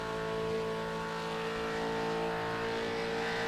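A V8 race car runs flat out down a start-finish straight with a loud, sustained engine drone whose steady harmonic tones climb gradually, close and continuous.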